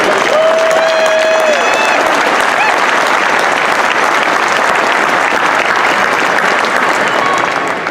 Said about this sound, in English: I want to start by asking you to give yourselves a big round of applause.